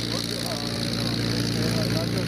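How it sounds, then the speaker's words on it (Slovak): A Supermarine Spitfire's piston engine runs as a steady, dense drone at an air show in Slovakia, loud and continuous throughout, with a voice talking over it. "Legendárne lietadlo Spitfire."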